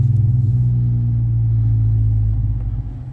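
Exhaust of a Chevrolet Sonic fitted with MagnaFlow Magnapack mufflers, heard from inside the car as a steady, loud low drone while it cruises, easing slightly toward the end.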